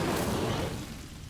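Incendio fire spell blasting in the video game Hogwarts Legacy, a loud roaring whoosh of flame that starts strong and fades out over about a second, heard alone.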